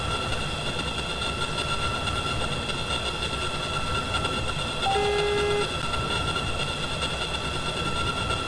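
Train running in a Roblox train simulator game, a steady rumbling rail drone with steady high tonal whine, plus a brief horn-like toot around the middle; no talk.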